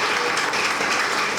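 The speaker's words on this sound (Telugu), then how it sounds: "చప్పట్లతో వారికి ధన్యవాదాలు తెలియజేద్దాం." Audience applause at a Christmas celebration opening ceremony, a dense, steady patter of many hands clapping throughout, fairly loud and without speech.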